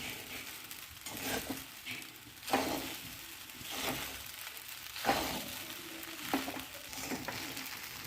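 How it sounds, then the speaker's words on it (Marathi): Sabudana khichdi is stirred in a pan: soft, intermittent spoon scrapes and gentle frying crackle, quiet and close, with a few louder strokes and no voices. "अशा पद्धतीने पूर्ण हलवून घ्यायचं आहे"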